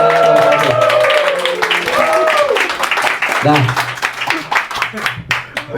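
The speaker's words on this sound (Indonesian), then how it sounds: "Tepuk tangan buat Dani Beler" An audience applauds comedian Dany Beler on a comedy talk show, with dense clapping under a host's loud voice. The clapping thins out into scattered claps toward the end.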